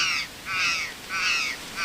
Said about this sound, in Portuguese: Gralha do campo, gralha picaça também são bem cantos daqui